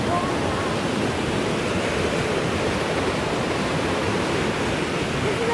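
Water rushes steadily at a camping spot, a continuous broadband wash that stays close and even from start to finish with no talk over it.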